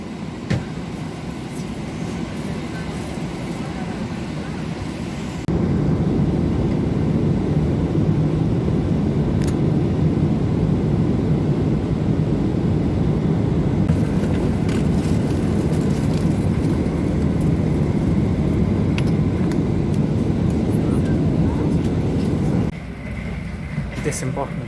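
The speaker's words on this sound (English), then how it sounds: "Disembarking the plane now." Inside an airplane cabin after a London to New York flight, a steady low engine and ventilation rumble fills the space as passengers disembark, with faint clicks and shuffling.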